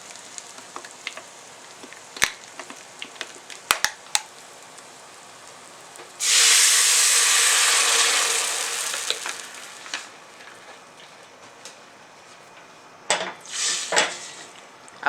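Seasoning for vegan smoked-flavored collard greens sizzles loudly in a hot pan for a few seconds as it is shaken around, surrounded by scattered clinks of utensils and cookware before and after.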